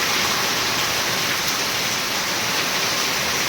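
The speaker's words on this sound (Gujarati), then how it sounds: "ઘણો વરસાદ" Heavy night rain pours steadily and loudly, a dense continuous wash with no gaps, wind gusting at times, with no talk over it.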